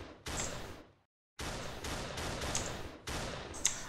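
Weapon fire in an Unreal Engine 4 game using an explosions toolkit: repeated bursts of dense, noisy shots with a short silent gap between them, fairly quiet overall.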